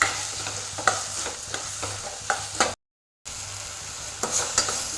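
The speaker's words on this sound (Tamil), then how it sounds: "இது வதங்கும் போது உப்பு தேவையான அளவு சேர்த்துக்கலாம். நல்லா வதங்கட்டும்." Tomatoes sautéing in a pan with a soft steady sizzle and intermittent scraping stirs of a spoon, close up, briefly cut to silence midway, no talking.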